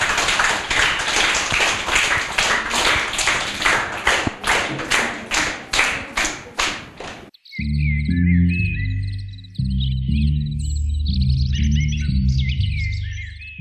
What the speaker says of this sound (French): on applaudit Kevin bien fort